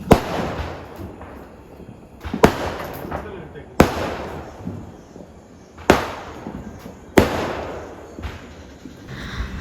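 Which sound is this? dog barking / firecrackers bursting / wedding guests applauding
firecrackers bursting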